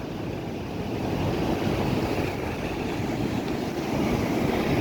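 Water plunging from a height of roughly 100 to 200 feet at Ezhukumvayal Thuval waterfalls, a steady broad roaring rush with low rumble and some wind buffeting on the microphone, continuous and unbroken.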